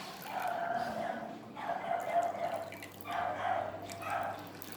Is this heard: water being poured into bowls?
yes